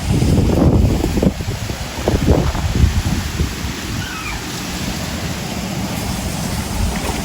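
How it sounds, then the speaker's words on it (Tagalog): Strong wind buffets the microphone in rumbling gusts, loudest at the start, then settles into a steady roar outdoors, no talking. "Malakas po ang hangin."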